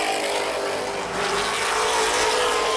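Late model stock cars race in a pack at Baer Field Speedway, with engines roaring continuously as the battle for second unfolds, heard loud and steady with a broad, dense engine noise throughout.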